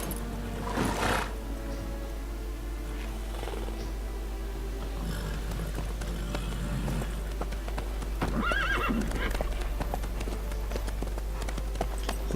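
A horse in The Witcher 3 video game whinnies loudly near the start, then hooves clip-clop along at a steady walking rhythm with further snorts and neighs over a low ambient hum.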